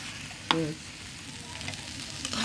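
Soaked lentils fry in a pan for a dal with sweet bottle gourd, giving a steady close sizzle with a sharp clatter near the start.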